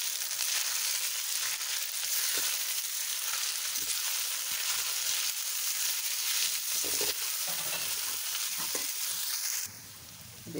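Red pasta sauce bubbles and sizzles in a pan as it is stirred and mixed, a continuous hissing with scattered scraping knocks, ending in a brief clatter.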